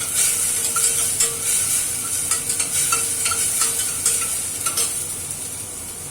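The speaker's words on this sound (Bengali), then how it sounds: "এর মধ্যে আমি পেঁয়াজটা খানিকটা ভেজে নিয়ে এর মধ্যে আদা রসুনটা দিলাম, মশলাটাকে ভালো করে কষাতে হবে" Onion, ginger and garlic masala fried and stirred in a pan, a constant hissing sizzle broken by repeated scraping knocks of the spatula, close up and fairly loud, no talking.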